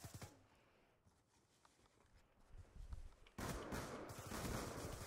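Shotgun blasts in the online shooter 1v1.LOL, starting with a faint shot early on and then giving way to a loud, sustained burst of broadband gunfire and clatter in the second half.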